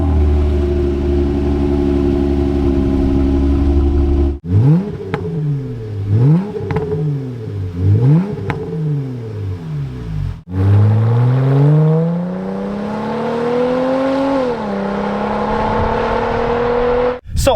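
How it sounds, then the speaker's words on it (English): A Jeep Wrangler V6 with a Flowmaster Outlaw exhaust idles with a deep rumble, then revs repeatedly in quick rising-and-falling blips before a longer sustained rev climbs and settles, loud and close. "It kind of mimics that V8 rumble that is very hard to get from a V6"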